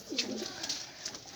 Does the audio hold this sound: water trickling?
no